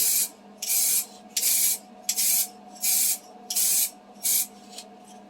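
Repeated short bursts of Revell aerosol spray paint, seven in a row with brief pauses between, close and steady hissing over a low background hum.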